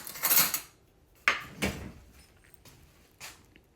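Utensils and cupboard sounds in a home kitchen while fetching a spoon for chicken noodle soup: a rustle, then a couple of sharp clacks and a softer knock, fairly close, with no talking.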